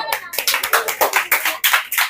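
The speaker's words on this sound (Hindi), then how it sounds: "ताली बजाओ" A class of students in a ninth-grade maths lesson claps hands together in a quick, even rhythm, about eight or nine loud, close claps in a row.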